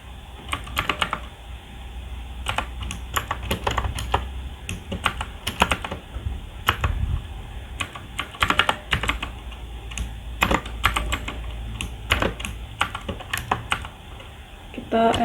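Continuous typing on a computer keyboard, close up, with bursts of rapid key clicks broken by short pauses and occasional heavier key presses.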